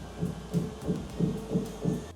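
Treadmill running at 12 miles per hour, a steady low rhythmic thumping of quick footfalls about three per second over a constant motor hum, moderately loud and close with no talking.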